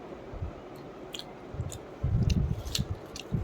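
Close-up chewing while eating food at home: soft, wet squishing and biting noises in short irregular bursts, growing louder and busier toward the end, with no talking.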